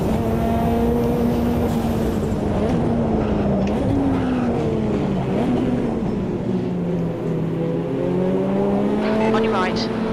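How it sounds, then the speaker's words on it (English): Ferrari F40 in the racing sim Automobilista 2 (AMS2), its engine droning steadily with shifting pitch through a continuous lap, wastegate chatter and tire noise layered over it, loud and close throughout. "Just enjoy the sounds of this F40."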